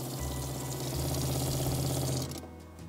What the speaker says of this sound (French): quand je mets en route le robinet